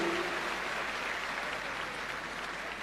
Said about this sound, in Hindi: एक बार आइए जोरदार तालियों से इन बच्चों को बधाई दें इनकी सफलता के लिए